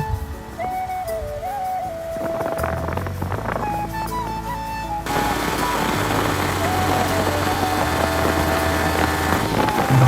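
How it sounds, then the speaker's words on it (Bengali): Strong wind buffeting the microphone on a fast-moving boat, a loud continuous roar with engine drone and whistling tones, growing heavier partway through, and no clear voices. "আপনারা সবাই দেখতে পাচ্ছেন চারিদিকে বাতাস"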